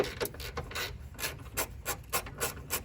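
Repeated short rasping, ratcheting strokes come close and fairly quiet as two 10 mm radiator bracket bolts are undone on a Chevrolet Camaro during an A/C condenser replacement.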